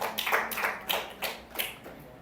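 A man claps his hands at a church service, about seven crisp claps in an even rhythm, close and clear.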